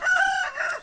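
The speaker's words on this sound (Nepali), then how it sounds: "यहाँ भाले यत्रो छ यहाँनिर" A rooster in a Nepali village gives a single short, close crow, clear and fairly loud against a quiet background.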